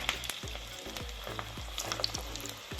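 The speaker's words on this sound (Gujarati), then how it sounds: "અને એને તળી લેશું." Maggi bhajiya fritters bubble and sizzle in hot oil over a high flame, a dense close frying crackle with a few soft pops.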